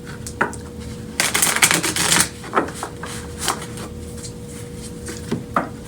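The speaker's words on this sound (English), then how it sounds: "let's go ahead and shuffle these cards" Tarot cards are shuffled with riffling and shuffling bursts, followed by scattered soft taps and clicks, close and unaccompanied by speech.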